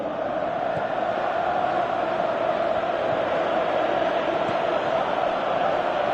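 Dense, steady roar of a large stadium crowd at a football match in a PS4 video game, continuous and even throughout with no clear peaks, like a constant murmur of thousands of fans.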